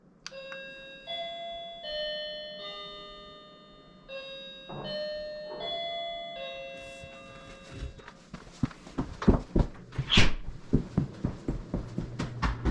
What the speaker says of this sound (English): I finished the doorbell.